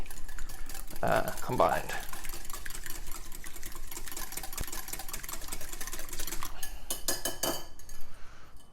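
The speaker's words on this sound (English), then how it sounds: "And then we're going to whisk that." Eggs whisked in a bowl for carbonara, the whisk clinking and scraping steadily against the bowl throughout, close and fairly loud, while a person talks briefly over the first seconds.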